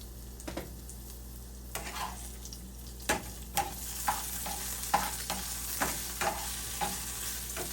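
Frozen hash brown potatoes frying in a pan with Barilla Completa, a constant sizzle broken by repeated clattering stir and scrape strokes, close and moderately loud.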